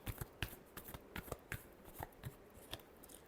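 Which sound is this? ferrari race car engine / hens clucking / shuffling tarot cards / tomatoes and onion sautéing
shuffling tarot cards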